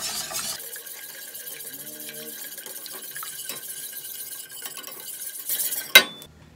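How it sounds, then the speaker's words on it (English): A utensil scrapes and swirls through dark chocolate melting in a pot, soft stirring with light clinks, then a sharp metallic clank of the spoon against the pan near the end; a voice briefly overlaps. "you wanna stir until the chocolate is completely melted"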